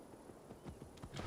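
A summoned horse in Assassin's Creed Valhalla trots in with quick hoof clip-clops that grow louder and closer over a short burst.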